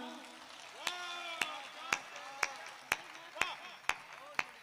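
An audience at a Hindi kavi sammelan claps in slow, evenly spaced single beats, about eight sharp claps over a few seconds, with a woman's sung or recited voice underneath.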